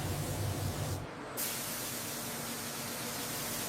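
Coating is sprayed onto the undercarriage of a HIMARS rocket launcher vehicle in a factory, a steady close hiss of spray with a brief break and low hum before the broadband spray noise resumes; nobody speaks.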